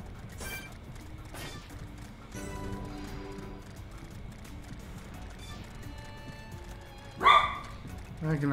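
Dog barking in the video game Xenoblade Chronicles: Definitive Edition, a few sharp barks near the end rising over game music and ambient sounds, with a voice also heard at moments.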